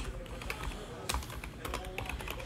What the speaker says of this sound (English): Let's type in the hits.